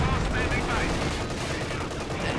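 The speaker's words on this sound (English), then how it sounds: "There's the stun round come off the AT gun." An anti-tank gun in a winter-themed King of the Hill strategy game fires a stun round, giving a loud, dense burst of gunfire with a thick, sustained rumble under faint voices.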